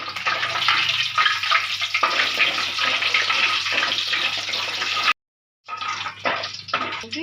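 Fenugreek seeds frying in hot oil with cumin and turmeric, a loud, dense crackling sizzle that runs steadily, cuts out abruptly for a moment, then resumes.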